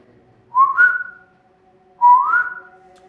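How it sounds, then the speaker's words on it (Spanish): Two rising whistles from far off among houses across the street, each about half a second long, separated by a short pause, clear against a quiet background at night. "Se escuchó un silbido muy a lo lejos, en las casas de enfrente"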